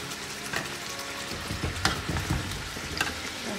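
Chicken pieces fry in hot oil with a dense, steady sizzle and crackle, close and loud, with a few bursts as the pieces settle in the pan.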